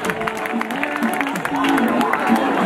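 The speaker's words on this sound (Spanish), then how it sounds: "Fuerte el aplauso." A crowd at a winter fair in Moncada applauds with a loud, continuous patter of many hands, a voice carrying over the clapping throughout.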